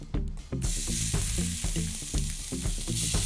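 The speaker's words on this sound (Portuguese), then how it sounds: "vou colocar a cebola" Onion dropped into a hot pan bursts into a loud, close sizzle that settles into steady frying, with rhythmic stirring knocks and scrapes repeating throughout.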